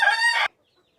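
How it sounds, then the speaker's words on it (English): A young rooster hatched in October gives one short, bright, harmonic crow or squawk up close, cut off abruptly and followed by near silence. "He's a little rooster I hatched back in October"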